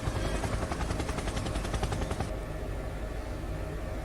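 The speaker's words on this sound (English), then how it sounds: "without a helicopter buzzing right over the top of them, all that downdraft, all that noise" An air ambulance helicopter from Microsoft Flight Simulator thrums with a fast, loud rotor chop that pulses steadily, then the blade beat fades into a smoother engine whine.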